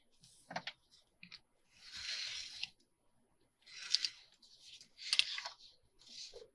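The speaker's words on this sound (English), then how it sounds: "We're going to cut 5 inches this way." Paper is cut with scissors to make faux envelope pockets: several separate close snipping and slicing bursts with short quiet gaps between them, and no talking.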